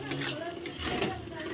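A spoon stirs turmeric- and salt-spiced food in a cooking pan, scraping and rattling in short close strokes over a faint background sizzle, with a brief voice murmur underneath.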